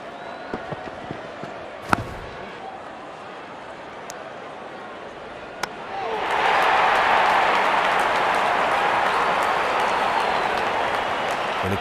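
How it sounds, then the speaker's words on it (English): A cricket stadium crowd at an India versus Australia match bursts into loud, sustained cheering and applause partway through, after a quieter stretch with scattered bat or ball knocks. "Crowd is enjoying every bit of this action."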